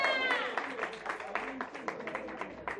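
An audience applauds and cheers for a rapper at a freestyle battle, a moderately distant burst of claps and crowd noise that settles into scattered clapping, with voices mixed in.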